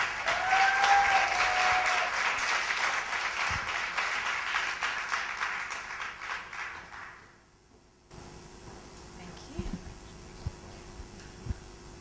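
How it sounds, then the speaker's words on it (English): An audience at a women's conference session applauds in welcome as a speaker comes up, full steady clapping that fades out after about seven seconds, then quiet room noise with a few small knocks. "we just want to give her a round of applause"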